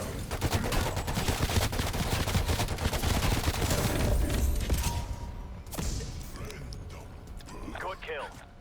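Rapid HK21 machine-gun fire in Cold War Zombies, a dense loud burst of shots running for about five seconds, then sparser shots and weapon handling, with someone talking over the gameplay.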